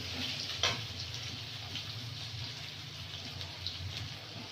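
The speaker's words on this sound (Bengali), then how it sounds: "পেঁয়াজ আর রসুনটা ভালো করে ভেজে নেবো" Onion and garlic frying in a pan with dried chilli and bay leaf, a steady hiss and sizzle throughout with a few sharper crackles, close and alone.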